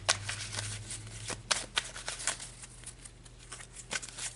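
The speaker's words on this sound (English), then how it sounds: "Okay, so I'm gonna pull a tarot card." A deck of tarot cards is shuffled by hand close up, with quick papery riffles and soft slaps repeating over a faint low hum.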